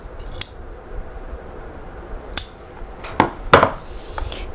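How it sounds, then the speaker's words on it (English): Scissors snip through material while making a DIY travel jewelry organizer: four crisp, close cuts at irregular intervals over quiet room tone, with no talking. "and that's where I'm going to cut"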